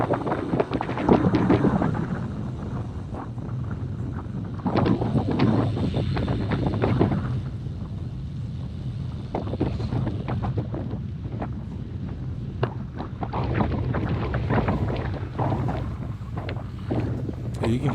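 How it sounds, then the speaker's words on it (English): Strong wind gusts buffet the microphone during an outdoor group cycling ride heading west, roaring in loud surging waves throughout, with bursts of talking mixed in. "You can hear the wind."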